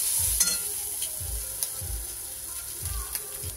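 Potato, onion and egg fry in a pan, a constant hiss of sizzling oil broken by repeated low scraping thumps of stirring at a loose rhythm, close by.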